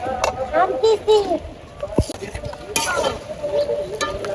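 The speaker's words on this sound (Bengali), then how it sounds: "এখন আমি পেঁয়াজগুলো ভেজে নিব" Faint sizzling of onions frying and stirring in a pan, with a spoon scraping now and then while voices talk in the background.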